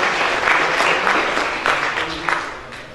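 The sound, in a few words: round of applause at conference session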